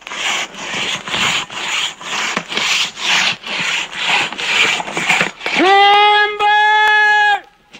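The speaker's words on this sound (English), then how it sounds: "They go to work with a handsaw." A handsaw cuts through a big tree at a lumber operation on Mt. Adams, Washington, with about a dozen steady rasping strokes, close and loud. A long sustained tonal call or whistle follows.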